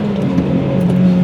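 A Toyota Celica with the 2ZZ four-cylinder engine revs steadily from inside the cabin, a loud continuous drone with no talking.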